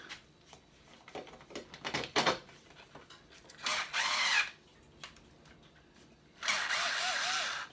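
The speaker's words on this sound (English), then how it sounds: "little Bosch hand screwdriver makes it an awful lot easier" A Bosch electric hand screwdriver loosens the mirror screws on a Ducati Supersport motorcycle: two sustained motor whirs, each lasting under a second, stand out after quieter clicks and handling noises.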